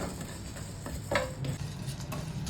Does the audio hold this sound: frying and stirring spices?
yes